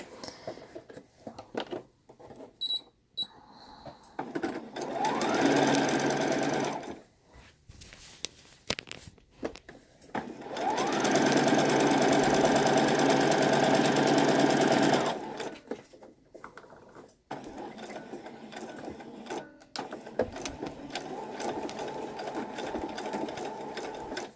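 A sewing machine stitches a girl's Civil War era dress in two long runs of fast, even whirring, each several seconds long, separated by quieter handling of the fabric; close and clear.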